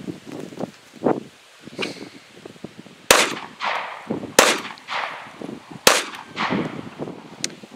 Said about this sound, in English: he's gonna try the 9mm versus the two hay bales